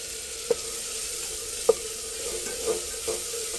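Mustard seeds, curry leaves, onion and tomato fry in hot oil in a pot on a village stove, a soft steady sizzle broken by a few sharp taps of stirring.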